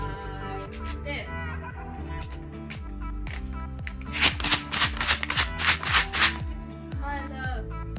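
Dry rice shaken in a container, a burst of rapid rattling pulses that stands out over a steady background of music and voices.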